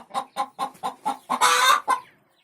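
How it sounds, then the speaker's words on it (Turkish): Hens cluck in a quick rhythmic series, then break into a louder, drawn-out squawk before settling, close by. "böyle gıdakladığında diğerleri de beraber gıdaklar"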